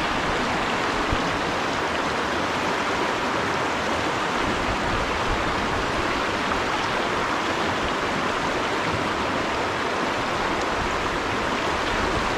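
Steady rushing of a mountain stream in spring, a dense broadband wash of flowing water running continuously and loud with no voices.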